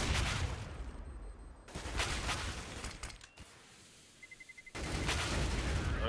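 Rapid gunfire bursts in Counter-Strike on the Inferno map, loud volleys that cut off abruptly, then a quieter stretch with a few soft clicks before firing resumes.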